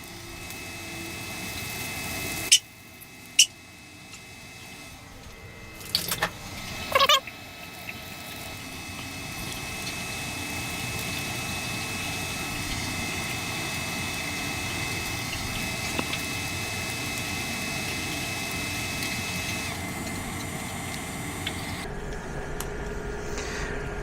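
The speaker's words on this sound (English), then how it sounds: "There is a fan on," Cooling fan inside a 614 Wh portable power station running near its 600-watt maximum, a steady soft whir of broadband noise throughout, with a few sharp knocks and clatters early on and a slight rise in level over time.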